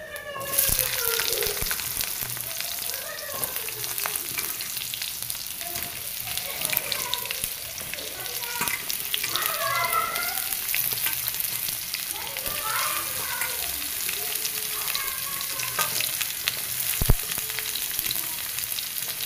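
Vegetables frying in hot oil with dried red chilli and panch phoron: a steady, dense sizzle and crackle that runs throughout, with scattered clatters and soft background voices beneath it.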